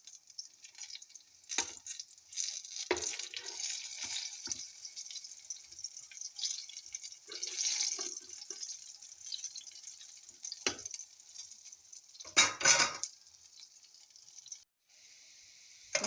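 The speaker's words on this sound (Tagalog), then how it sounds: "Frying now eggplants, organic eggplants." Organic eggplant slices fry in a pan with a continuous hissing sizzle that swells and fades, with a few brief clatters scattered through and a quiet moment near the end.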